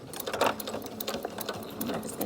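A Singer sewing machine stitching straight along a fabric edge while closing up a 3-D face mask, a fast, steady mechanical whirring with rapid needle ticks, close and continuous.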